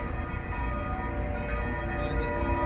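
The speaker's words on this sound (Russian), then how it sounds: "Рядом церковь, и в общем, звенят колокола." Church bells ringing nearby in Novi Sad, heard as a dense, sustained wash of overlapping metallic tones over street ambience.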